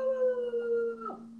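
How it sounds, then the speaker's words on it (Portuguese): A dog's drawn-out howl, steady and fairly close, that bends downward and trails off into a brief whine near the end, with no voices. "ela ouviu um barulho e ela começou a latir."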